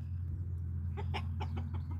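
Small flock of chickens newly integrating, several short clucks and soft vocal bursts in the second half over a steady low background hum; no one talks.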